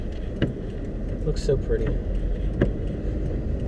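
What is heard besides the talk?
car driving through a small town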